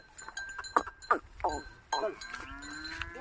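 Cattle at close range, with several short bellows and grunting calls in an uneven series, over a faint farmyard background.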